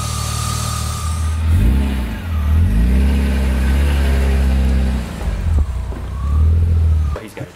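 A BMW E36 M3, freshly fitted with a rebuilt steering pump and a new steering rack, pulls away with a steady mid-pitched engine drone that rises briefly as it revs, loud and close throughout with no talking.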